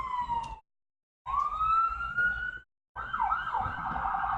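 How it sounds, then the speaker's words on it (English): A wailing ambulance siren rises and falls, cut by two short gaps, then switches to a faster warbling yelp as it passes. "Ambulance is going by."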